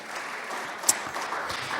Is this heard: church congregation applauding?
yes